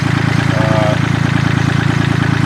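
A tractor engine runs steadily at a loud, even idle-like chug with a regular low pulse while planting straight rows for a fall food plot, a voice talking over it.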